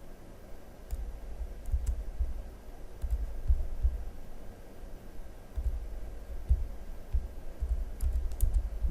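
Entering an IP address on a computer keyboard, a steady stream of close key presses in short bursts with a deep thump under each one, heard alone with no talking.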